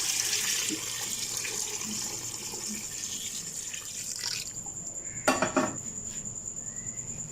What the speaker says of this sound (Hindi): 1 लीटर पानी ऐड कर देना है।